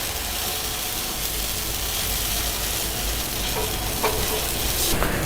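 Dosa batter poured onto a hot pan gives a loud, steady, close-up sizzle with fine crackling throughout and a few small clicks near the end, with no talking.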